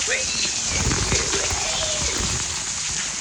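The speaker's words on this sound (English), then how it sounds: "This is supposed to be a tropical storm. I'm sure there's supposed to be some lightning and some downfall." Simulated tropical storm rain hisses steadily through an indoor exhibit room, a dense broadband wash that runs unbroken throughout, with faint voices and movement underneath.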